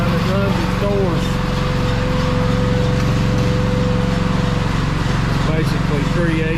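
A roll-forming machine feeds a metal coil and shapes it into standing-seam roof panels with tongue, groove and nailing flange, a steady loud mechanical drone with engine-like hum and whining tones running throughout.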